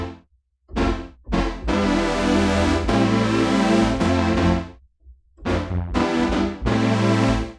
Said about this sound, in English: And then you've got the crescendo brass, which is really sort of, meaty sort of sound.